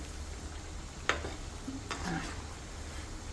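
Shakarpara pieces fry gently in oil over a low flame with a soft, quiet sizzle, broken by a sharp tap of a utensil and a brief rustle of turning.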